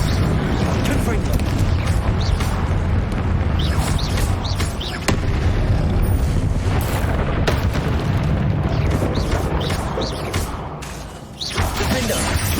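Repeated spell blasts and booming magical impacts from the Hogwarts Legacy video game, loud and dense throughout with brief gaps, while a voice speaks over the action.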